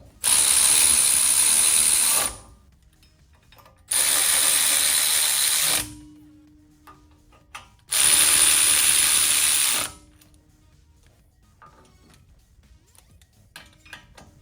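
A power ratchet tightens hub bolts on a 2015-2017 Ford F-150 4x4, giving three loud, close bursts of about two seconds each with brief pauses and faint clicks between them.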